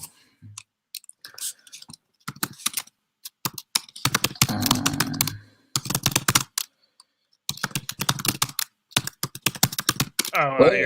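Fast, furious typing on a computer keyboard during a livestream: dense bursts of close key clicks that stop and start, with people talking between and over the clatter.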